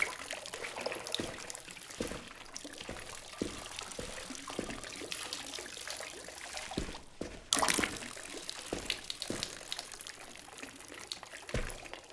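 Water is poured over houseplants in The Berlin Apartment video game, a quiet steady trickle and splash that runs under soft taps and clunks, with one brief louder burst partway through.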